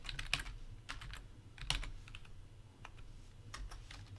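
Keys clatter steadily on a computer keyboard while a username is typed into an account registration form for Bloqer software, an irregular run of crisp close clicks with no talking.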